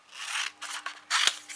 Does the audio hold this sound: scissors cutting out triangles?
yes